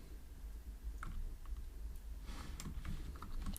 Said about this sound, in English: here I'm gonna type